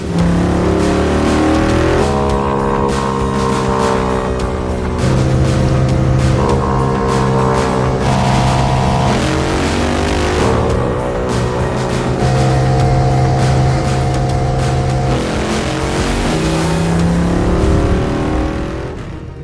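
A Royal Enfield 750 overhead-cam motorcycle on a record run at Bonneville, its engine loud and close, climbing through repeated rising rev sweeps and gear changes at full throttle.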